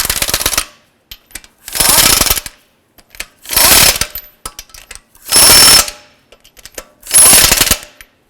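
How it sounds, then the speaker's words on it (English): Five loud bursts of an impact wrench snugging lug nuts on a Honda Civic wheel, each roughly a second long and separated by short pauses, close up with faint clicks between. "I'm going to go ahead and snug up these lug nuts."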